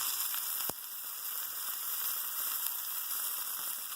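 Cu-Bueno sandwich bread sizzling as it is pressed in a hot pan, a soft continuous frying hiss with a faint electrical hum and one brief knock near the start.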